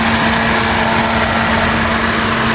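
A car engine idles smoothly and steadily, with a constant close hum and a faint whine that runs unbroken with no talk over it. The car has dry battery fitted and HBS brakes.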